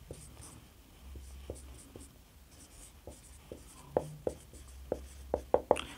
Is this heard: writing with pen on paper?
yes